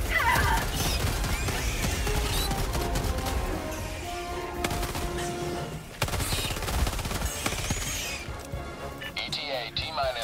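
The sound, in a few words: enemy gunfire in the video game Helldivers 2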